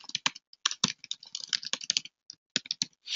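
Rapid, uneven keystrokes on a computer keyboard as an email address is typed, close and crisp with short pauses between bursts, no voices.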